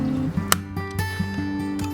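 Photographic developing chemicals pour into a light-proof container with a gurgling, filling sound and a few sharp clicks, close and moderately loud.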